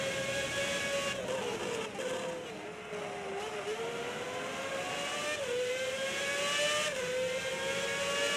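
A 2006 Formula 1 car engine screams through a flying lap at the Turkish Grand Prix, its loud, sustained high-pitched whine sweeping up and down through gear changes with no talk over it.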